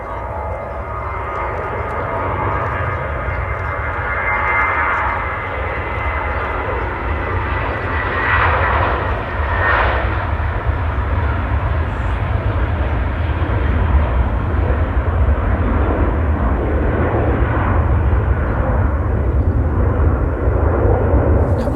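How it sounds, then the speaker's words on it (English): A Lufthansa jet airliner in retro livery takes off from runway 23 right at Manchester Airport, its engines a loud, steady roar with a broad rumble that holds strong for the whole span, no voices present. "the Lufthansa retro livery taking off from 23 right at Manchester Airport"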